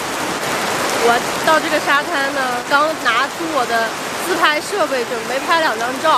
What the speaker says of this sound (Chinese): 你们能听见这个下雨的声音吗？